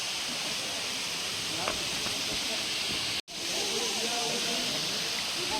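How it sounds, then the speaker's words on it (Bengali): Palani waterfall in Ranchi at low winter flow, a steady broad hiss of falling water with a brief drop-out partway through, heard under a faint voice. "পালানি ওয়াটারফলসের জল কিন্তু এখন কম আছে, যেহেতু এখন শীতকাল।"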